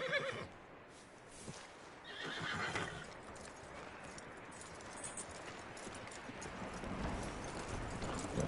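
A horse in a video game (Red Dead Redemption 2) whinnies loudly up close, followed by clip-clopping hooves and more neighing, with steady background noise throughout.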